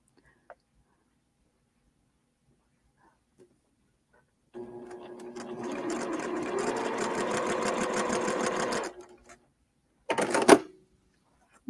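Juki sewing machine stitches a quilt block in one quick burst of rapid, rhythmic clatter lasting several seconds, then a short second run after a brief pause, in an otherwise quiet room.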